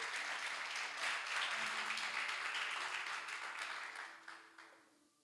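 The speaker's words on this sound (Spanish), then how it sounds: "Y le damos un aplauso glorioso al Rey que vive." A church congregation applauds in a sustained wave of clapping that holds steady for several seconds, then thins and fades toward the end.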